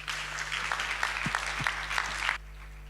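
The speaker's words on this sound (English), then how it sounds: "So give him a big round of applause," Audience applause for a conference speaker introduced before a talk on social networks and protest participation: a steady, dense wash of clapping lasting over two seconds, then cutting off abruptly into quiet room tone.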